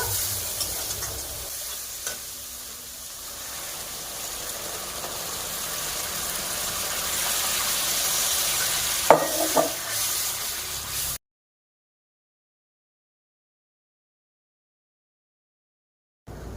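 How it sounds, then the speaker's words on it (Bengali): Spice paste for egg masala curry, with pepper, salt and a little water, sizzles in a pan with a steady close hiss and occasional stirring clatter, then cuts to silence. "অল্প জল দিয়ে মশলাকে কষে নেব।"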